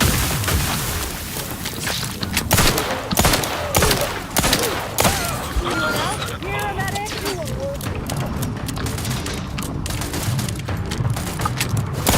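A grenade explosion and gunfire in The Outer Worlds 2, with dense, continuous bursts of shots and booms throughout and a voice talking over the combat.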